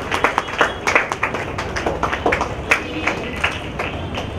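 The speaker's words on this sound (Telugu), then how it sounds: "గట్టిగా చప్పట్లు కొడుతూ" Church congregation at a parish golden jubilee celebration clapping loudly, a rhythmic pattern of sharp, distinct claps repeating steadily throughout, with a faint murmur of voices beneath.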